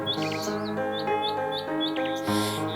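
A bird sings close and loud, repeating bright chirping phrases over a sustained tonal background, with no talking.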